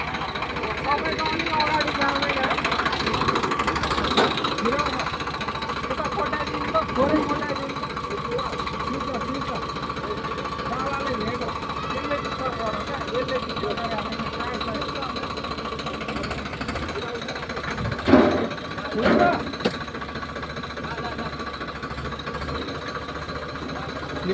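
A tractor engine idles and rumbles with a steady mechanical chug throughout, heard from close by under frequent conversation, with a few louder knocks near the end.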